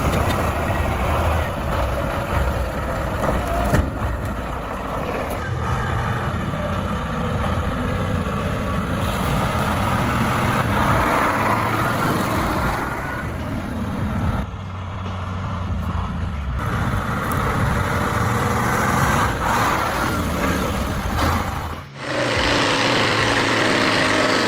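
Heavy wood truck engine laboring and revving while driving through mud, a loud, dense, continuous roar with rising and falling surges and a brief dip near the end, with possible air-brake hiss.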